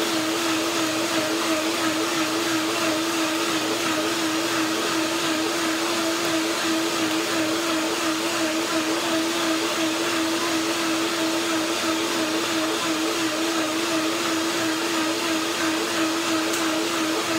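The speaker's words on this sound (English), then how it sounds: "Let's see blender dance." Blender motor whirring at a steady high pitch for the whole stretch, loud and close, with no voices.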